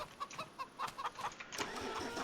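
Chickens on a farm in Farming Simulator 25 give short, quiet clucks in an irregular run of about eight to ten calls, with a low engine-like rumble behind them.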